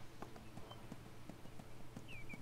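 A donkey's hooves clop in an uneven rhythm as it walks down stairs in the ArcheAge video game, faint and spaced, over a low hum with a brief high tone near the end.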